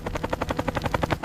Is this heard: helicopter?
yes